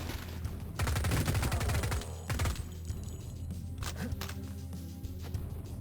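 Pistol gunfire in the video game Cultic, with rapid bursts of loud shots clustered early, then scattered reports and impacts over a steady game background.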